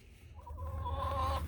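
Backyard homestead hens give a drawn-out, wavering call, close and fairly quiet over a low background rumble.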